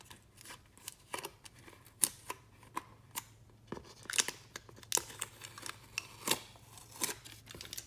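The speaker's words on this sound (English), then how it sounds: "now I'm going to remove the aluminum tape" Aluminum tape peeled off a surface by hand, a close series of sharp crinkling rips and crackles in uneven bursts over a quiet low hum, with no talking.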